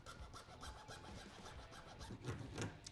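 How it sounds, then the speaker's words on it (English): File rounding off an edge left by side cutters, with quiet, close, rhythmic rasping strokes repeating steadily for about three seconds and no talking. "I'll actually round that out with a file to make it look a little bit more fluid"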